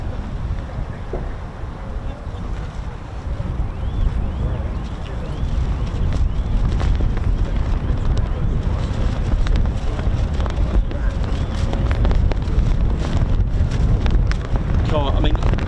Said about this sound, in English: this is how windy it is